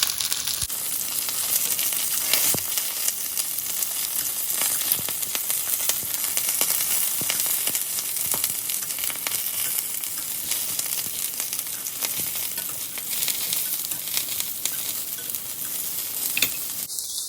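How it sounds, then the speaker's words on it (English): Aubergine pieces pan-fry in oil with a steady, close hiss and crackle. Occasional stirring knocks sound throughout, and no voice is heard. "it's not even shallow frying, it's just pan frying"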